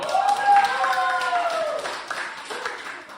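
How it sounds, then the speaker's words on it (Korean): A group claps by hand while an adult voice speaks over the clapping, close and fairly loud. "박수 한번 주세요"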